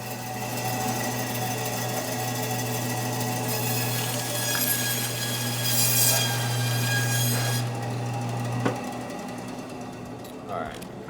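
A butcher's band saw cuts through bone-in dry-aged meat with a steady low mechanical hum and grinding bite, loud and continuous for most of the clip before stopping near the end, with a voice talking underneath.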